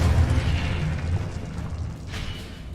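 Expelliarmus disarming spell cast in the Hogwarts Legacy video game, a loud, booming burst at the start that rumbles and slowly fades over the next couple of seconds.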